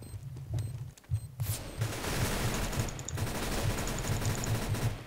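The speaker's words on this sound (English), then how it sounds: "that guy's got an auto" Automatic rifle fire in CS:GO, rapid continuous bursts of shots with rhythmic low thumps, starting after a brief pause and sustained loud to the end.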